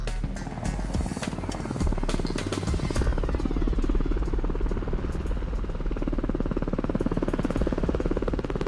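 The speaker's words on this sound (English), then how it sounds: "It's a very awesome helicopter." A military rescue helicopter flies with its rotor chopping in a steady, rapid beat and the engine droning underneath, loud and continuous throughout.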